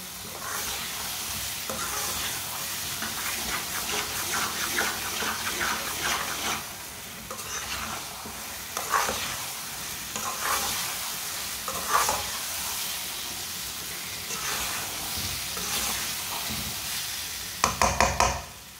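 Maize flour halwa thickens and cooks in a pan, with a steady soft sizzle and repeated scraping stirs of a spoon, ending in a few quick knocks against the pan.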